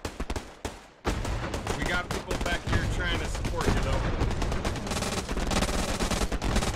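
Near-continuous machine gun fire rattles across a World War II battlefield in Hell Let Loose, dense overlapping bursts and nearby shots with a brief pause near the start, while someone speaks under the din.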